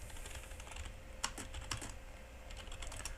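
Keys clatter on a computer keyboard in a quick, uneven run of soft clicks, close and faint against a quiet room hum.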